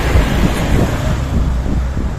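Steady wind buffets the microphone near the Enamavu steel bridge in Thrissur, a continuous low rumble and roar with no voices.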